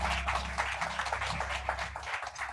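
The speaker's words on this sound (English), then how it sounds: "Can we have another round of applause for Charlene?" An audience claps for a performer named Charlene during a Zoom meeting, a dense, steady patter of applause from many hands, fairly close and continuous, with no talk over it.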